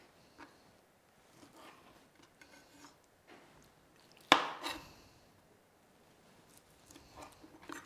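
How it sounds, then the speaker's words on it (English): A chef's knife slicing through cooked octopus on a board, with soft scattered cuts and one sharp knock of the blade, fairly quiet and close. "I'm just going to cut it into slices, and I know I'm using my chef's knife here"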